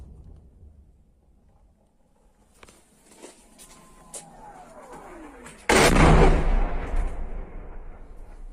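Artillery fire in the Ukraine war, with faint distant thumps and a falling whistle before one loud, close blast that booms and rumbles away for several seconds.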